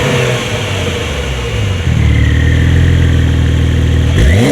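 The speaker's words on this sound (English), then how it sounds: "these large two exhausts look pretty powerful. Well, let's hear how they sound." A 2024 Porsche 911 GTS with large twin exhausts, idling loudly before the engine is revved hard near the end, the exhaust note rising sharply and sustained without speech.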